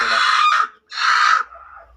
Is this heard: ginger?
no